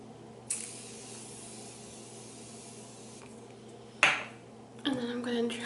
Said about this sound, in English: I'm just gonna go ahead and spray my face